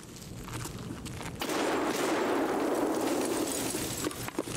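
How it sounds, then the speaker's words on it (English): Video game gunfight in which grenades burst and rapid gunfire crackles, a dense rolling blast swelling loud and near, with bursts of shots before and after. "Oh, grenade."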